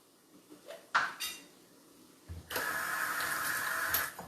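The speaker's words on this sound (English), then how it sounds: "Wash off my spoon." A spoon is rinsed off in a kitchen: a few faint metallic clinks, then a steady rush of running tap water that continues to the end; no one speaks.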